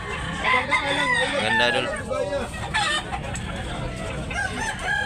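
Gamefowl roosters at a Tabunok, Cebu cockpit or market setting, crowing and clucking amid a busy crowd, with someone talking over the near, repeated calls.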